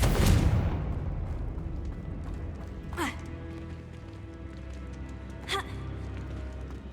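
A Confringo blasting spell cast in Hogwarts Legacy, opening with a loud booming burst that fades into a low rumbling tail, with a couple of softer whooshing effects following over steady game ambience.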